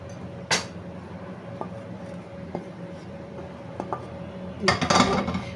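Potato and capsicum curry being dished out, with sparse metallic clinks of a spoon against a pot, a few isolated taps spaced apart and a louder cluster of scraping clatter near the end, over a steady background hum.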